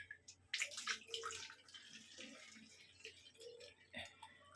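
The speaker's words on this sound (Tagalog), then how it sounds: "Lagyan natin ng tubig." Water is poured into a bottle, splashing and trickling faintly at close range in irregular bursts with small drips, quiet and without talk.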